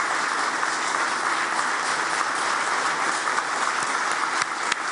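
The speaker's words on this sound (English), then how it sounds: "Please can I ask you to be upstanding and give a warm round of applause to Taoiseach Micheál Martin and Ukrainian Pr" Warm applause from a standing audience at an economic forum, a steady, full-bodied wash of clapping sustained throughout with a few sharper claps near the end.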